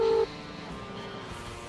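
A telephone call being placed to a marine centre over a boat's broken fuel pump: a brief tone at the start gives way to a faint, steady line hum.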